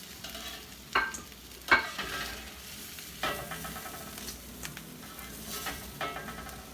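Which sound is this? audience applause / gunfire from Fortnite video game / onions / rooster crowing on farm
onions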